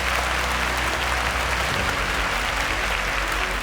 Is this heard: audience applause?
yes